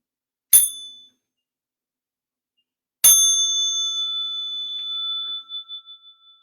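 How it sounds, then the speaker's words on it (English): A small meditation bell struck twice in a quiet room, the first a short ping that fades quickly, the second a clear, ringing tone that sustains and slowly shimmers away over several seconds. "I'll invite the small bell for stretching and massage"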